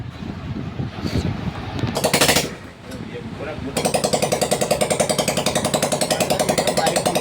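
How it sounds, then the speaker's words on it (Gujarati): A motorcycle engine starting up after valve and piston repair work: a short burst of cranking, then a loud, steady, rapidly pulsing idle that runs to the end, close by. "બાઇક ચાલુ કરીશું આપણે"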